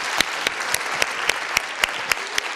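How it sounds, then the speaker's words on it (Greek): A crowd at a theatre performance staged during a pulmonology congress applauds, a steady wash of clapping punctuated by rhythmic, evenly spaced louder claps that stand out as sharp accents. "Ένα πολύ μεγάλο χειροκρότημα."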